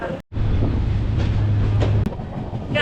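Pulling out of Londa Junction about 22 minutes late on an Ernakulam to Pune run, a passenger train gives a continuous close rumble from on board, with a brief dropout near the start and a sharp clack later.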